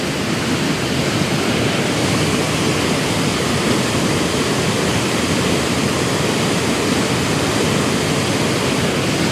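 A dense, steady roar of falling water fills everything, loud and unbroken, from a misty waterfall heard close up.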